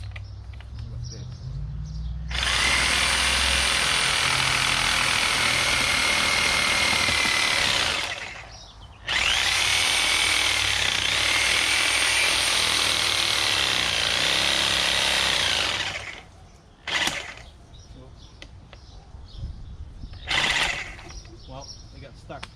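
A power saw cuts into wet wood from a fallen tree in two loud, sustained bursts with a short pause between, then cuts off, followed by brief rattles, quiet outdoor ambience and some talking.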